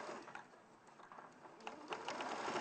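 A domestic sewing machine stitches a bag in a steady, fast run of needle strokes, fairly close and continuous, growing slightly louder toward the end, with no talk over it.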